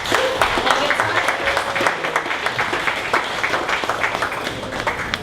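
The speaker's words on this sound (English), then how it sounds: "give him a big warm welcome and round of applause" An audience at a morning startup meetup in Dallas applauds to welcome a presenter; a steady, full round of clapping throughout with a faint voice underneath.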